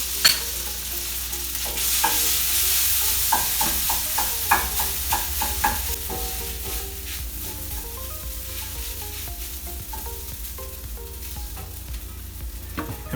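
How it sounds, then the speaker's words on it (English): Cup noodles pan-fry in hot butter, a steady loud sizzle with repeated scraping and stirring clicks from a utensil in the pan, continuing without pause and with no voices. "I'm going to pan fry these noodles in the butter."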